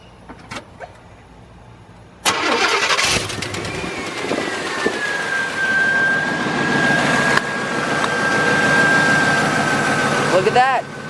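A car engine cranks and catches, then runs loudly and steadily close by with a rising tonal whine, preceded by a few thumps and followed by voices near the end.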